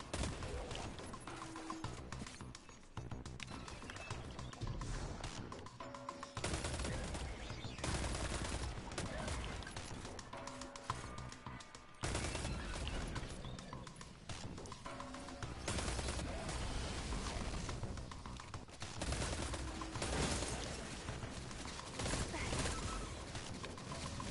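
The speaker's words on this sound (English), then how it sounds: "So the auto rifle feels real good" Auto rifle gunfire in a PS4 video game rattles in sustained bursts of rapid shots across the whole stretch, loud and dense with brief pauses between volleys.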